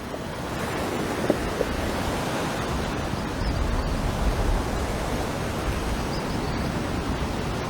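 Ocean surf rolls in at Bathsheba, Barbados, a continuous roar of breaking waves with swells of louder wash, heard over steady wind buffeting the microphone and no voices.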